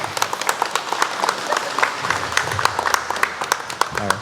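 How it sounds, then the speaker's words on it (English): A short burst of audience applause, crisp individual claps clearly audible in a moderately sized crowd, with a voice briefly beginning to speak near the end. "So can we just give them applause real quick?"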